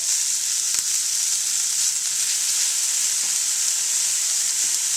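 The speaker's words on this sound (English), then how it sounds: "this is cooked ham, so all we're doing is really just heating it up" Pieces of cooked ham heat in a pan, giving a steady, bright, hissing sizzle that stays even and close throughout, with only a faint click or two and no talking.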